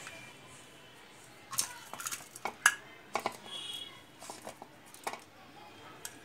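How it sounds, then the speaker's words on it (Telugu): Garlic chili mix scraped from a utensil into a large bowl, with a series of faint clinks and scrapes of a spoon against a dish, sparse and irregular over quiet room tone. "ఆ పార్ట్ 1 ని ఇంకొక పెద్ద బౌల్ లోకి ట్రాన్స్ఫర్ చేసుకోవాలన్నమాట"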